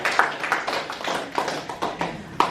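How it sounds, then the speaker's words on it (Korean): Applause from an audience at a church gathering, a dense patter of claps rising and falling over a couple of seconds, fairly close and lively. "아이고, 박수까지 쳐주시고."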